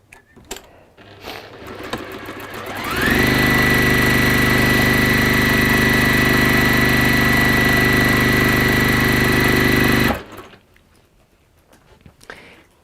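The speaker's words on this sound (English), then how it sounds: "And then we're just going to stitch down there and hold it in place." A sewing machine stitching down folded fabric runs in one loud, steady, even whir for about seven seconds, with quiet room sound before it starts and after it stops.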